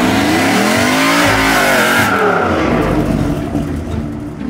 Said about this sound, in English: That's how you do a burnout, sir.